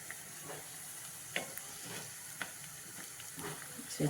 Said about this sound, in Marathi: चांगले असे शालू फ्राय करून घ्यायचे